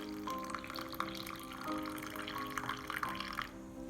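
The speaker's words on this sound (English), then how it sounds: "Pour just 50 ml of water little by little like this." Water poured slowly, little by little, into a South Indian coffee filter, a gentle continuous trickle with small splashes over a steady tonal background hum, easing off near the end.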